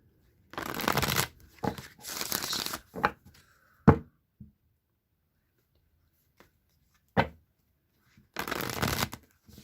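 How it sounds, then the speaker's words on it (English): Tarot cards shuffled by hand in several separate bursts of riffling and rustling, with short taps and pauses between them, close and moderately loud with no talking. "I'm going to shuffle the deck 3 times, cut the deck, draw 1 card, and then shuffle again"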